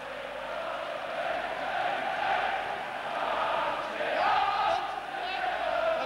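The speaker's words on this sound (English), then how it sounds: "And the crowd going mad actually beside me." Rugby league stadium crowd at a Leeds versus St Helens Challenge Cup semi-final in 1994, a loud, sustained roar of cheering and bellowing that swells and holds throughout.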